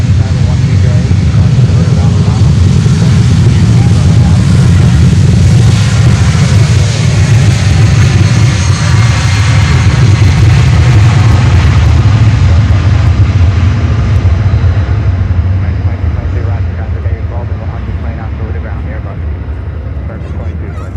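A heavy cargo jet, Apex 5191, takes off from runway 9 at Miami Airport, its engines a loud, continuous roar that slowly fades as it climbs away, with air traffic control radio talk over it.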